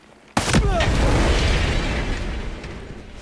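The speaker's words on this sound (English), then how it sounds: "let's see just how bad this explosion is from right here" A barrel explodes in the video game Ghost Recon Breakpoint, a sudden loud close blast followed by a long rumbling roar that slowly fades over several seconds.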